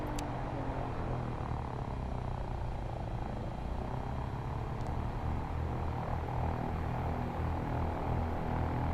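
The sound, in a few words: Cessna 172 propeller aircraft in X-Plane 11 video game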